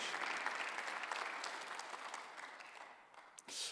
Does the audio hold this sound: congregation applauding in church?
yes